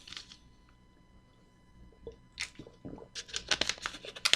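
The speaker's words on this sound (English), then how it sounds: "That's water you hear me drinking" Someone takes close-up sips of water, with faint soft wet mouth sounds first and then a burst of gulps and swallowing clicks growing louder near the end.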